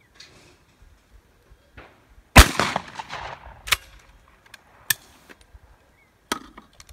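A single sharp, loud blast from a Perazzi shotgun fired at a clay target outdoors, with a ringing decay, then a few faint clicks and light handling knocks in otherwise quiet surroundings.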